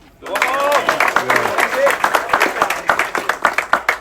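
Crowd applause aboard a cruise ship during crew introductions, a steady wash of clapping under a loud voice, then thinning into scattered individual claps near the end.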